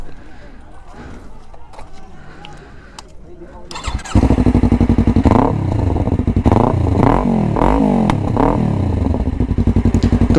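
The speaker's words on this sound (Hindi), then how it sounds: "ये है आपका R3 में एग्जॉस्ट जो लग रहा है वो है अक्रापोविक का स्लिप ऑन एग्जॉस्ट" Yamaha R3 twin-cylinder motorcycle with an Akrapovic slip-on exhaust, idling in neutral before starting up into a loud burbling idle and a series of sharp rising and falling throttle revs, close by.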